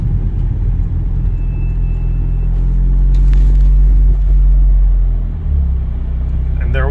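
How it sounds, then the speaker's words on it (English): A 700 whp Genesis Coupe 2.0T with a LinkECU plug-in kit idles at a traffic light in neutral with the clutch in, a steady low rumble close by and loud throughout, its level dipping briefly near the end. "Right now we clutched in, we're in neutral, and we're gonna stop at the light, make sure it doesn't turn off or do anything weird once we stop."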